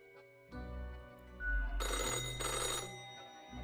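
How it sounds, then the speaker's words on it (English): A telephone ringing with a harsh metallic clatter: a low hum swells into a bright, rattling burst of ringing mid-clip, fairly faint overall, then fades. "the phone rings with an ears-piercing metallic clatter"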